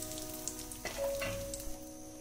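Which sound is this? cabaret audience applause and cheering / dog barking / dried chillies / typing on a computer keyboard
dried chillies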